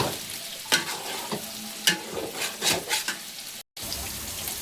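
Chicken biryani masala with yogurt sizzles in the pan while a spoon stirs it, steady frying hiss broken by several scraping strokes and a brief dropout, no voices heard.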